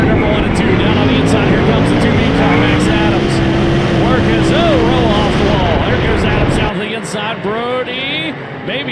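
Sprint cars race around the Kokomo dirt track, a loud continuous engine roar with rising and falling pitch as cars charge into the turns, then the roar drops off as they pass, with a race announcer talking over it.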